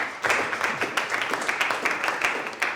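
A young audience at a slam session in Goma claps in a brief, loose burst, individual hand claps audible and fairly close.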